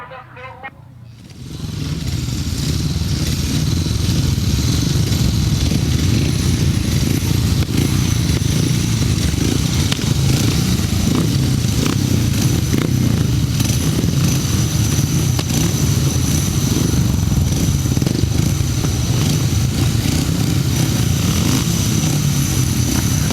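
Grasstrack racing motorcycles at the 2006 British Under 21 Championship roar loud and continuous after a short quiet start, a dense layered engine drone of several bikes racing close by.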